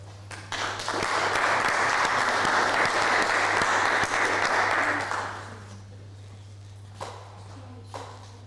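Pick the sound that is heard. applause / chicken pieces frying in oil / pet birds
applause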